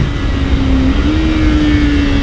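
A Kawasaki Ninja 500 motorcycle rides hard into a decreasing-radius corner under braking, its engine a loud, close, steady drone with a sustained tone that dips briefly and holds, with wind rush throughout.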